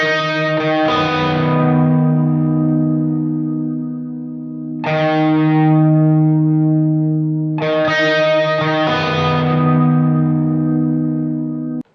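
Clean electric guitar played straight into a Marty Friedman signature SansAmp pedal, in a studio: three sustained, ringing chords, each left to decay before the next is struck, with no one talking.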